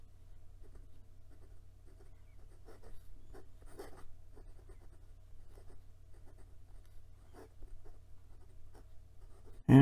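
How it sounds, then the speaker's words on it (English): A Moonman Q1 fountain pen with an extra fine to fine nib scratches quietly across paper in short, faint strokes and taps, close and soft, ending with a sudden louder knock. "And some quick writing."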